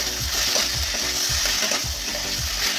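Potatoes and data stems fry in a pan for a Bengali chorchori, a loud steady sizzle with a rhythmic scraping of the spatula stirring repeatedly, close up and without talk.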